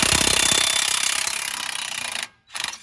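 Rapid, loud metallic hammering at close range on a bolt through a car strut and spindle, a dense rattling burst that stops abruptly, then resumes briefly.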